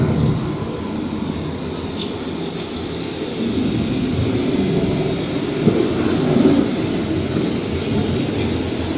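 Thunderstorm with a steady wash of rain and a deep, continuous rumble of thunder, loud and close, swelling slightly near the end with no voices.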